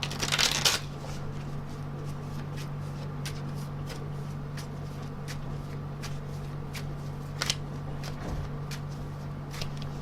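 A brief burst of card riffling at the start, then soft, sparse clicks of cards being handled over a steady low hum.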